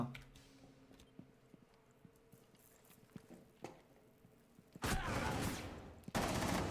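Video game shooter gunfire: quiet scattered clicks and distant shots, then two loud, close bursts of rapid automatic fire.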